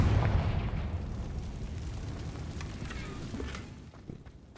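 A Confringo spell explodes in Hogwarts Legacy, opening with a heavy blast that decays into rumbling crackle. Fainter pops follow near the end.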